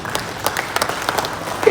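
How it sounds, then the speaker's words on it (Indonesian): Brief, thin applause from an audience at a journalists' association gathering, a few sparse claps in an echoing hall with a voice faintly underneath. "Tepuk tangan itu."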